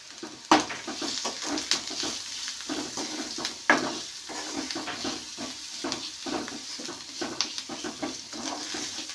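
Onions, green chilies, turmeric and salt frying in a pan for semiya upma, with a soft steady sizzle and repeated scraping stirs, some sharp clanks of the spoon against the pan, and no talking.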